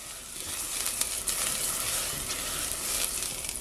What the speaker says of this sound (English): I'm gonna put some butter on the bottom of the pan.